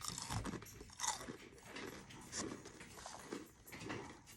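Crunchy fried mushrooms from Checkers/Rally's bitten and chewed up close, several crisp crunches in quick succession followed by softer chewing, quiet and without talking.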